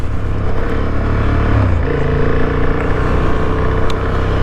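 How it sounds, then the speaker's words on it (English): A Honda Hornet 750 motorbike with a 750cc liquid-cooled parallel twin engine drones loudly and steadily while riding, its pitch shifting slightly as revs change, with wind noise around it. "it is a 750cc liquid cooled parallel twin"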